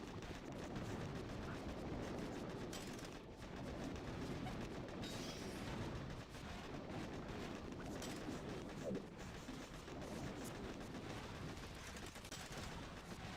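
Video game battle with bullet impacts and a sustained barrage of gunfire, a dense, continuous rattle of shots and hits at steady loudness throughout.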